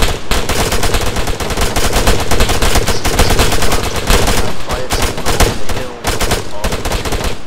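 Sustained automatic gunfire from a firefight in the military shooter Arma 3, dense rapid bursts of shots filling the whole stretch, loud and close with no pauses.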